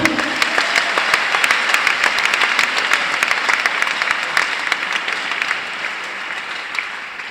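A church congregation applauds steadily during a conference service, dense sustained clapping from many hands filling the room, even and continuous, easing slightly toward the end.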